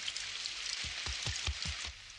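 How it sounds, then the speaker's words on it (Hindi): Cartoon rain falling in a steady hiss over a Doraemon scene, with a short run of soft rhythmic thumps partway through. "संडे को ही बारिश क्यों हो रही है?"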